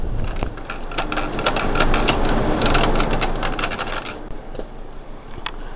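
A knitting machine carriage runs back and forth across the needle bed knitting rows, giving a steady, close mechanical clatter of rapid clicks and rattles that eases off toward the end.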